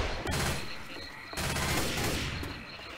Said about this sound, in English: When I'm in panic, I'm shooting everywhere.